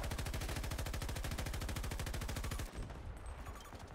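Rapid automatic gunfire in the shooter game Battlefield 2042, a dense steady stream of loud, close shots that cuts off abruptly near the end, leaving quieter background game noise.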